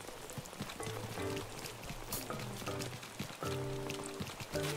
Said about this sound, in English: I really hate rain.